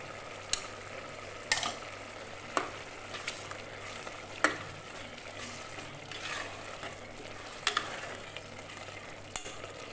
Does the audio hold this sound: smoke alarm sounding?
no